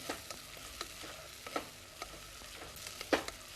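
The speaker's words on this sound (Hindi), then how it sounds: "इसे भी प्याज के साथ भूनेंगे।" Onion and sliced garlic frying in a pan, with a soft steady sizzle under scattered stirring clicks and scrapes, nearby and fairly quiet, no talk.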